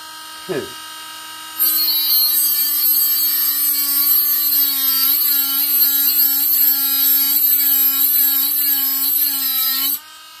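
A small handheld grinder runs steadily for about eight seconds after a brief knock, a loud, close, continuous whine with a slightly wavering pitch that cuts off abruptly.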